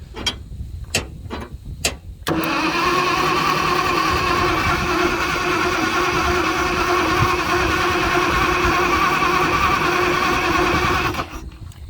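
A few sharp clicks, then the engine of an old 1940s Motowlift forklift, a propane-converted Ford flathead, cranking steadily on its starter for about nine seconds in a continuous churning drone before it cuts out.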